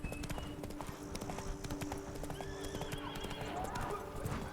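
The horse in The Witcher 3 trots with a steady, loud clip-clop of hooves and gives a whinny over an ambient game soundscape.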